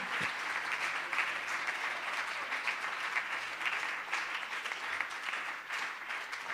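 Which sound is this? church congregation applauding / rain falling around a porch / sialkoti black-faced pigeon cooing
church congregation applauding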